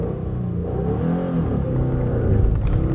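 A Subaru with over 250 horsepower and a manual gearbox accelerates hard on a drag strip. Its engine rumble swells steadily and heavily, close up, with no talk.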